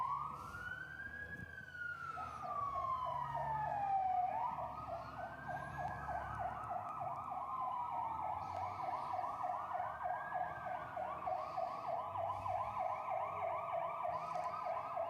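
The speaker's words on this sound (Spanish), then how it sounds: "it's sounding so that people will clear the way for a fire truck, for an ambulance, for a police car that needs to get through." A wailing emergency siren of the kind used by fire trucks, ambulances or police cars, its rising and falling tone repeating steadily and loudly from start to finish over faint road noise.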